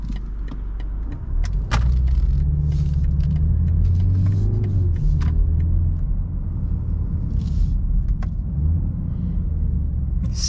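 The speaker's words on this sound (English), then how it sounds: "Still smooth, even manually shifting in city conditions." A 2024 BMW 330i driving through city traffic with manual gear shifts, heard from inside as a steady low engine and road rumble with occasional small clicks and rattles, no talking.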